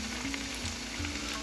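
Batter-coated eggplant slices (beguni) fry in hot oil with a steady, dense sizzle and crackle that holds evenly and close for the whole moment, without any voice.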